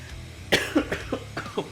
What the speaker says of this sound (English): I'm also getting over this cough.